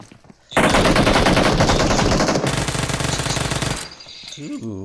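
Sustained automatic gunfire from a PUBG scrim match, loud and dense rapid bursts lasting several seconds before cutting off, followed by brief quieter game sounds.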